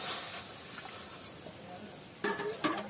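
Water poured into frying mung dal in a pan, a soft hiss and sizzle that swells abruptly near the end with sharper splashing bursts; no one speaks.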